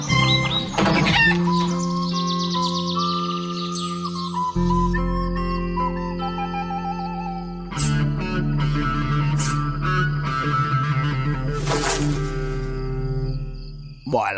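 Chickens cluck and chirp in a cartoon, bright bird calls layered over busy music that plays continuously and loudly throughout.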